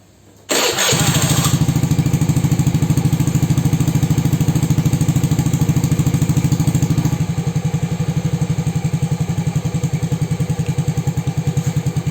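An automatic scooter fitted with an AHM muffler silencer starts with a sudden catch, then idles with a smooth, soft, even putter close to the microphone, dropping slightly lower partway through, with no talk.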